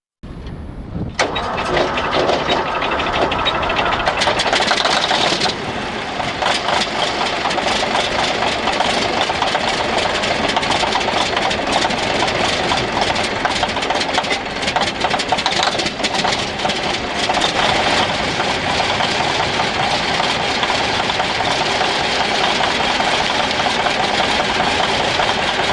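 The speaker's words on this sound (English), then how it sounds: "powers up in a D9 bulldozer on a January day after sitting in cold weather" A Caterpillar D9 bulldozer cranks and fires up on a cold January day after sitting in the cold, its heavy diesel catching within a second and then running as a loud, steady, rumbling idle close by.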